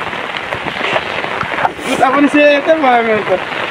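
Rain patters steadily on surfaces outdoors, a continuous wash of drops with a few louder splashes, while a person speaks over it.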